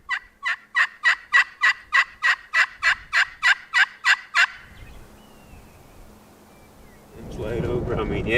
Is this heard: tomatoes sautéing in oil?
no